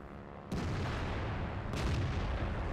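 An artillery gun fires in World of Tanks, two heavy booming shots with a sharp onset and a long rumbling tail, loud and close, with no talk over them.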